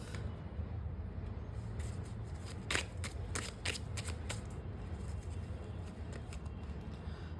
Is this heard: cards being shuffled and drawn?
yes